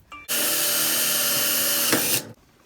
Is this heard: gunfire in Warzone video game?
no